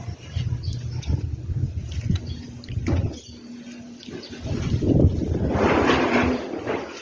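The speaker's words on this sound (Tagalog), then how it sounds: "Malakas ng hangin dito." Gusty wind buffets the microphone with rushing, rumbling noise that swells and eases, growing stronger toward the end.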